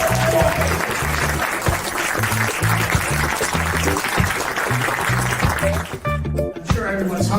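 Applause rises from an audience at a faculty and staff institute, loud and sustained, with music playing underneath and a voice coming in near the end.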